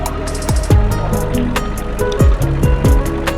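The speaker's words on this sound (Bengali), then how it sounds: "আমাদের ট্রলারটি হয়তো একটু ছোট, কিন্তু ছোট হলেও আমার কাছে বেশ নিরাপদই মনে হয়েছে" Small motor trawler travelling on a river in Bangladesh toward Madhyer Char, with a steady engine thrum under splashing water and some sharp, falling tones, all close and fairly loud.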